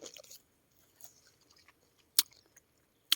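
Someone chews fresh cherries picked in an orchard, a few crisp bites and soft mouth sounds in quiet, with two sharp crunches standing out near the end.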